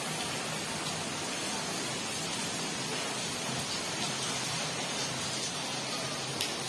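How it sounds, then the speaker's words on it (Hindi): Heavy monsoon-style rain pouring down outside a home, a steady, dense hiss of drops on surfaces that stays even and unbroken for several seconds, with no voices. "बहुत तेजी से बारिश आ रही है।"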